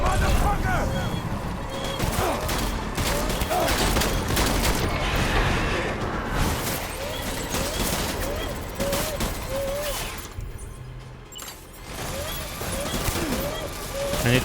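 Gunfire rattles in the video game Death Stranding, with bursts of shots over a dense, noisy battle soundscape that holds steady throughout. Someone shouts excitedly over the din.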